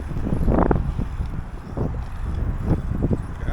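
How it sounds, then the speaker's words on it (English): Steady low rumble of strong wind buffeting the microphone outdoors, with gusts rising and falling throughout. "Very windy indeed."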